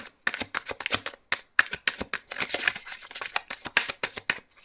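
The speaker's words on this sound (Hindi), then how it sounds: "last shuffle" Tarot cards shuffled by hand in a quick, uneven run of crisp riffles and flicks, close and clear, with no talking.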